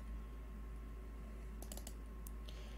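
Typing on a computer keyboard, a few quick clustered keystrokes near the end over a quiet background hum.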